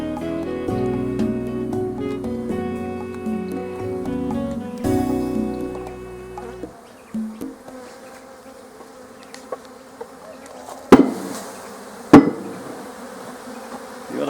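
Honey bees are shaken off frames of a super full of laying-worker drone comb. A dense, loud buzzing swarm fills the first half, then the buzz thins while two sharp knocks ring out close by.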